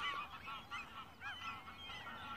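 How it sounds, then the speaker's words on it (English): Geese honk in overlapping calls as they fly over in southern Sweden, faint and somewhat distant, with no speech. "Lots of geese and swans flying around down here."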